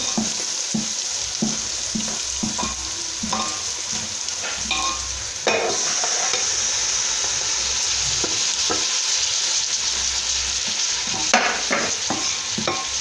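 Spices and tomatoes fry in a pot while beef is being cooked. A continuous close sizzle runs throughout, broken by scattered stirring knocks and scrapes, and no one talks.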